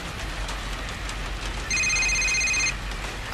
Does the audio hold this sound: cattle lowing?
no